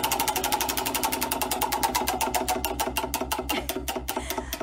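Spinning carnival roulette wheel at a fair, a fast steady stream of clicks that gradually slows and spreads out over several seconds, loud and close with no talk.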